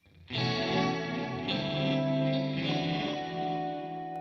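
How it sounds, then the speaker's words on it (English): An electric guitar sends a sustained, shimmering chord through a tape echo pedal patch, swelling in and washing on with smeared, wobbly repeats for several seconds, loud and close, with no one speaking. "And then here's a tape echo."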